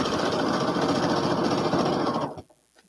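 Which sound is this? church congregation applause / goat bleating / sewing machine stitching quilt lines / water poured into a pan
sewing machine stitching quilt lines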